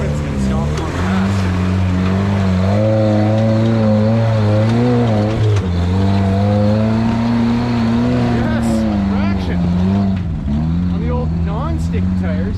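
A Toyota buggy on sticky tires revs hard while rock crawling behind a house, its engine note rising and falling in long, loud sustained pulls, close by, with voices talking over it.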